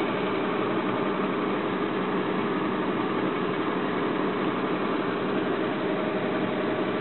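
A Ford car engine idles steadily with a rough, raspy exhaust note from an exhaust leak, constant and close, with no talking.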